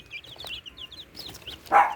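Native organic chickens cluck and chirp in short high bursts, ending with one louder squawk close by.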